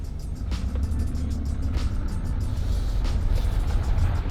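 A 1986 BMW E30 idles and then pulls away in first gear on a dirt road, its low engine rumble steady and close, rising slightly in strength toward the end with no talk.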